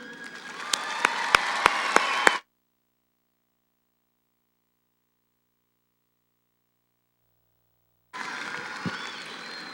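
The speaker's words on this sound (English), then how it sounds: "Please join me in a round of applause for Ms. Linda Ramirez and the Socorro High School Orchestra." Commencement audience applauding for a high school orchestra: dense crowd clapping with a few sharp close claps, cut off abruptly, then after a silent gap the applause resumes at similar strength.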